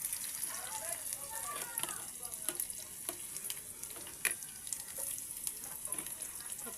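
Mustard seeds and chopped onions sizzling in hot oil with curry leaves, a steady close crackle with sharp pops and stirring scrapes, under a voice speaking Telugu.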